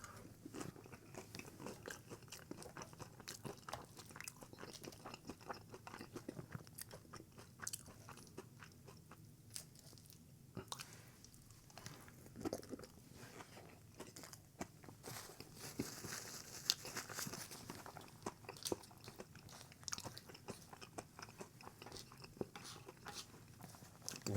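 Very quiet, close crunching and chewing of Taco Bell nacho fries and tortilla chips, with irregular crisp bites and crinkly rustles repeating over a low background.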